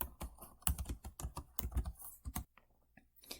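Rapid bursts of typing on a computer keyboard, close and fairly loud, with uneven clusters of keystrokes that stop abruptly near the end before a couple of final taps.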